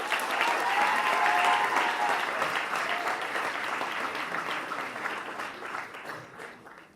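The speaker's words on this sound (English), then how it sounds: "let's give a big round of applause for these guys" Audience applause for student performers at an international peace conference opening ceremony, a steady dense clapping that holds loud for several seconds then gradually thins and fades toward the end.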